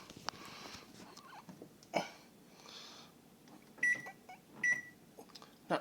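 A microwave oven hums with a CD inside, with bright electrical crackles and pops flaring at intervals and a few sharp high zapping tones.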